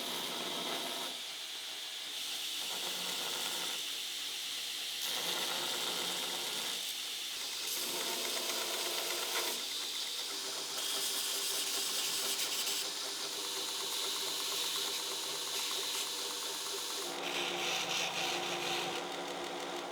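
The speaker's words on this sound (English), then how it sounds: "What I'm doing here is that I'm using Scotch-Brite belts." Scotch-Brite belts on a belt grinder hiss and whir steadily against a steel Viking sword pommel as it is polished, the grinding pitch shifting in repeated passes over twenty seconds, moderately loud, with no talking.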